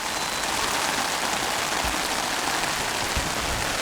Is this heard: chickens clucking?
no